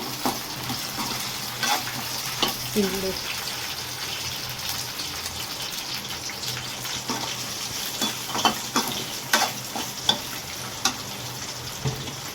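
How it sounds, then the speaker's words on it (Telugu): Green chilies and garlic cloves fry in a pan, giving a steady close sizzle and crackle broken by sharper pops and spatters toward the end, with no voices. "వీటితో పాటు వెల్లుల్లిపాయలు వేయించేసుకోవాలి."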